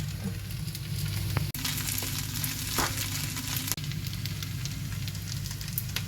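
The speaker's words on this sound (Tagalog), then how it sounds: "You're cooking fried rice?" Fried rice frying in a pan gives a steady, close sizzle with a few sharp knocks, continuous and alone without speech.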